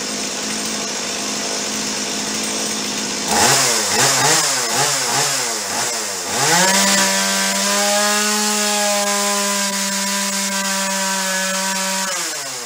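A 24-year-old Stihl 018C chainsaw roars close by, rises and falls through several quick throttle surges, then settles into a steady, buzzing high idle that holds to the end without any voices.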